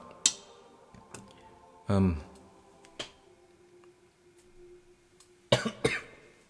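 A man coughs a few times in short, sharp bursts during a calm talk on Catholic teaching, with a clear cough just before two seconds and another cluster near the end, alone against a quiet room.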